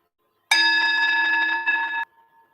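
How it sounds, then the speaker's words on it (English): A single meditation bell strikes cleanly out of silence and rings with a bright, sustained metallic tone for about a second and a half before it cuts off. "Enjoy the silence before the bell."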